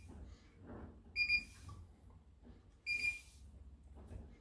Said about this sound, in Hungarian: tehát ha megnyomom, akkor 2-t fog csipogni mindegyik